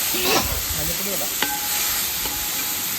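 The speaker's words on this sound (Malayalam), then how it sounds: "അതിലോട്ട് കുറച്ച് തക്കാളി നമ്മൾ നേരത്തെ അരിഞ്ഞു വെച്ചത് അത് ഇട്ട് കൊടുക്കാം അതൊന്ന് ഇളക്കി കൊടുക്കാം" Chopped tomatoes being stirred into biryani masala in a pan, a brief close burst of scraping stir strokes over a steady frying sizzle and hiss, with no talking.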